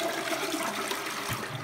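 A toilet flushing cereal down, a loud steady rush of water close by with a gurgling drop near the end.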